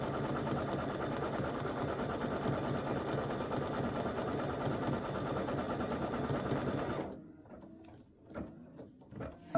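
An embroidery machine stitches an elf hat applique for a T-shirt or sweatshirt design, giving a steady, rapid, loud mechanical whir for about seven seconds before stopping, followed by a few quieter clicks and knocks.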